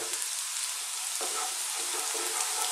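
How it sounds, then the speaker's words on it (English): Garlic frying in oil for fresh vegetable fried rice makes a steady close sizzle, with a few faint stirring scrapes and no talking. "what I like to do is just for a few seconds get this garlic happening until it just slightly changes colour."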